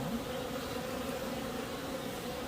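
Honeybees buzz steadily around a hive during pre-winter inspection of the combs, a dense continuous drone of many insects close by, with no talking.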